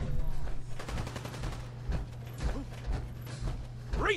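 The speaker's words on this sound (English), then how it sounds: "who's shooting at what?" Gunfire from Fallout 4 comes as a string of rapid shots and bursts, moderately loud over a constant low hum, with a rising mechanical whine near the end.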